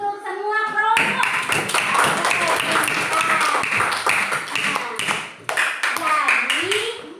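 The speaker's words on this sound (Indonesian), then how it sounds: "Tepuk tangan dulu untuk semua kelompok" Schoolchildren in a primary classroom clap together in a loud, rhythmic burst after a brief voice at the start, with young voices calling out over the clapping.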